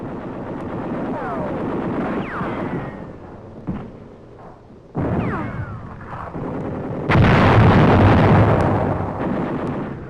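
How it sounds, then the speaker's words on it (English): Delayed-action bombs explode over enemy positions in a wartime combat newsreel, with loud, sustained booming and rumbling blasts that swell and overlap into a heavy roar. "Delayed action bombs help to neutralize prepared positions above our troops."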